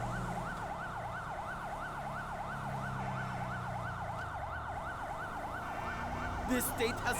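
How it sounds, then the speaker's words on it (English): An ambulance siren in GTA 5 on a St John's Hyundai Santa Fe ambulance sounds loud and close, wailing in rapid regular up-and-down sweeps over road rumble, with a few clattering knocks near the end. "Friggin' really noisy sirens"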